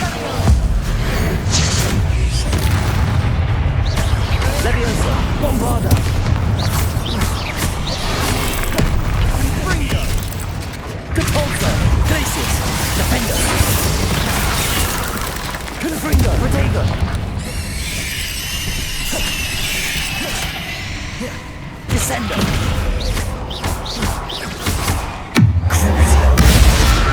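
Bombarda blasting spells in Hogwarts Legacy go off as loud, booming explosions with heavy low thuds, repeated through a chaotic fight over music and effects, with a voice talking over them at times.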